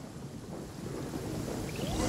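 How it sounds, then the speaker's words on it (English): Strong wind gusting in a video game, a steady broadband rushing whoosh that builds slightly toward the end, with a faint rising tonal sweep near the close. "The wind! I can't open my eyes!"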